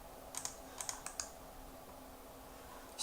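Keys tapped on a computer keyboard in a quiet room, a few light clicks in short bursts and then a stronger one at the end, all faint and without any talk.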